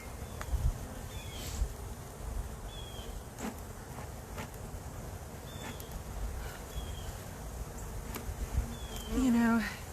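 Honey bees buzz around a hive frame in a low, steady drone, with a few louder passes as single bees fly close by against a faint outdoor background.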